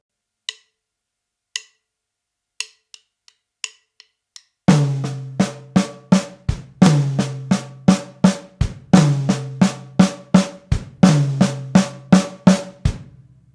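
A ticking count-in of soft clicks gives way to a drum kit lick played in sixteenth-note triplets across snare and toms, dense and evenly driving, close and loud with ringing drum tones.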